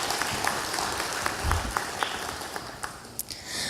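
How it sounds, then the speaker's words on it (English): Scattered applause for land certificate recipients at a Ministry of Land and Marine Resources Certificate of Comfort distribution in Trinidad, a steady patter of clapping held at moderate distance throughout. "And we can give them rounds of applause as they come."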